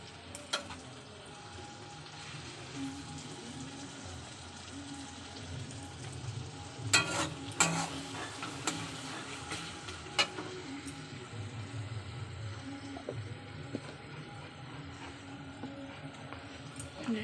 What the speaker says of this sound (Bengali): এবার এই আদা রসুনের পেস্টটা দিয়ে ভালো করে নাড়াতে হবে, ভাজতে হবে আর কি এই পেস্টটাকে।